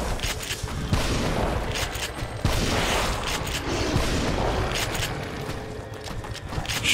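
Shotgun blasts in The Evil Within, loud booming bursts at about one and two and a half seconds over a dense, continuous rumble of noisy combat action.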